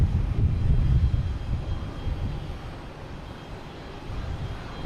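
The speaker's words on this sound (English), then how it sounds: "Here's United coming in from LAX. 737 MAX 9." A United Boeing 737 MAX 9 jet arriving from LAX at Boston Logan makes a steady low rumble that is strongest at the start, then eases a little and holds as a broad roar with no talk.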